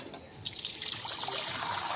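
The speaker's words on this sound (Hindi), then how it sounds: "अब एला हमन छन्नी में रिता लेबो ताकि एकर सब पानी है अच्छा से निथर जावे" Boiled tamarind flower greens drain in a strainer, water trickling and splashing steadily through the mesh at close range, with no talking.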